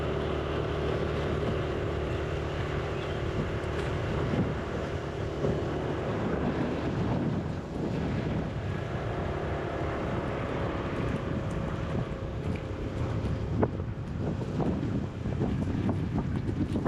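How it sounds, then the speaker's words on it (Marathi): Wind and rain roar steadily around a motorbike on a rainy Konkan road, a loud continuous buffeting rush with no talk. "पाऊस आहे, वारा आहे."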